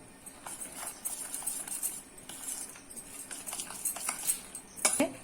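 Spoon clinking and scraping against a bowl while mixing peanut chatpati with salt and oil, a steady run of small close metallic taps and scrapes, with one sharper knock near the end.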